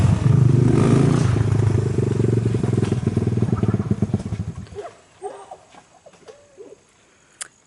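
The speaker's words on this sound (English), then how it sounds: "there's people on dirt bikes" Dirt bikes rumble loudly nearby with a rough, sustained engine drone that fades after a few seconds, leaving scattered faint clatters and distant noises.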